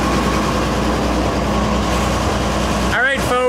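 An International R-185 fire truck engine idles steadily after its first start in a long time, a loud, constant rumble close by that ends in a short burst of noise near the end.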